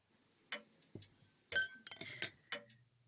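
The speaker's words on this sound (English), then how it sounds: "The clock ticks conspicuously, and the clink of the silverware is the only other sound." Silverware clinks against plates and glass at a grand house dinner table, with a few sharp, sparse chinks and a faint clock tick in an otherwise quiet room.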